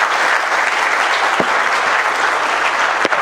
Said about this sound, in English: would you give him a huge round of applause